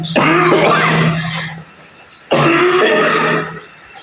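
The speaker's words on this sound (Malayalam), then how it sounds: "കുറച്ച് നേരം സംസാരിച്ചാൽ ചുമയടങ്ങും" Two loud, close bouts of coughing and throat clearing from a person with a cold during cool, rainy weather, each lasting about a second and a half with a short pause between.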